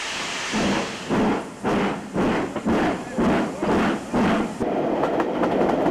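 Steam locomotive 3440 City of Truro running along the Devon coastline, a steady rolling rumble with rhythmic pulsing beats roughly every half second, close and loud, with a voice talking over it.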